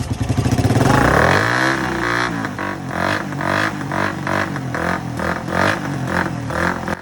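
A Suzuki Raider 150 motorcycle with its exhaust pipe refitted starts up close by, its engine rising in pitch as it catches, then revving in repeated bursts over a rough, throbbing idle.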